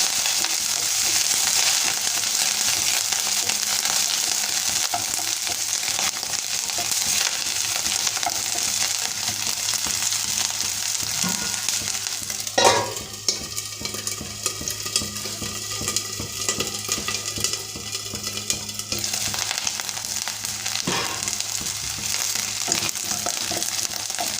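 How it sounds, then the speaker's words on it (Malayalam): Garlic sautéing in a pan for a jackfruit seed curry gives a loud, constant sizzle, with a spatula scraping and clinking against the pan now and then, and no voices. "കുറച്ച് വെളുത്തുള്ളി രണ്ടും കൂടിയിട്ട് ഒന്ന് അങ്ങനെ വഴറ്റണം."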